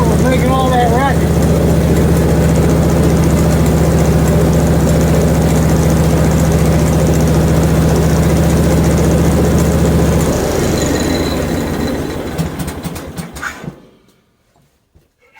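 Hud-son HFE30 sawmill engine running steadily after a guide adjustment, a low, even drone for about ten seconds that then winds down and shuts off into silence, with a voice talking over it.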